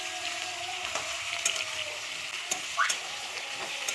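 Cut ridge gourd sizzles in hot oil as it is stirred, a soft continuous frying hiss broken by a few sharp scrapes and clinks.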